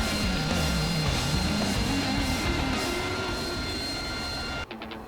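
Jet engine roar from a fighter hovering above an aircraft carrier in a flight game, a loud steady drone with a shifting low tone that cuts off abruptly near the end.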